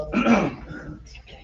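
One sharp throat clear or cough from a person in a meeting room, close and brief, trailing off into low murmuring.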